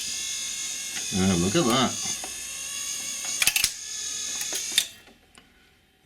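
Rock-Ola jukebox mechanism operating and homing: a burst of whirring, ratcheting mechanical motion followed by sharp clicks and clunks, close and moderately loud, with brief talk over it before the mechanism settles and stops.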